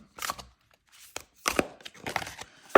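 A deck of Everyday Enchantment Tarot cards by Poppy Palin is shuffled by hand in several short, crisp bursts of card-against-card flicking, separated by brief pauses, close and fairly loud.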